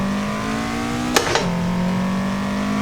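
A Toyota AE86 engine in the Assetto Corsa racing game drones steadily, then a sharp double blip as the clutch is kicked and the revs jump before the drone settles back at a lower pitch, no speech.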